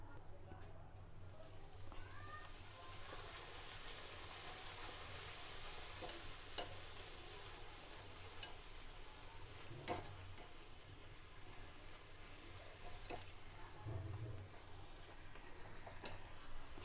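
Puris deep-frying in hot oil in a home kitchen, giving a steady, low continuous sizzle with occasional faint clicks throughout, fairly quiet and alone without talk.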